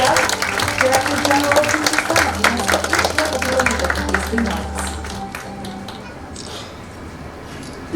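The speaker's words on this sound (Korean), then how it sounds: "큰 박수와 함께 모시겠습니다." An audience claps to welcome a speaker at the opening ceremony of a Korea-ASEAN mask exhibition held by the KF ASEAN Culture House and UNESCO's Asia-Pacific intangible heritage centre. A dense burst of applause with some tonal sound underneath gradually thins and fades.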